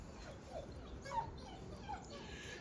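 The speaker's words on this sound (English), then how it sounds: "my neighbor's dog loves me and is always howling for me to come pet him" A dog whimpers and makes faint, thin howl-like cries from a distance. The cries come at intervals over a low outdoor background hiss, with no speech.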